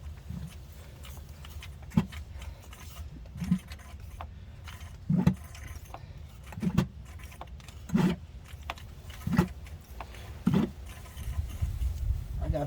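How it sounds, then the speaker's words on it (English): Plastic bags flap in the wind nearby during work on an AWD Astro van's front differential, giving rhythmic crackling bursts about every second and a half over a steady low wind rumble. "I got bags in the background making all that noise blowing around in the wind"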